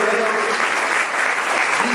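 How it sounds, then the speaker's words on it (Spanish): A church congregation gives loud applause to the Lord during a Spanish-language sermon, a close, full, continuous roar of clapping with voices mixed in beneath it. "Den un aplauso fuerte al Señor"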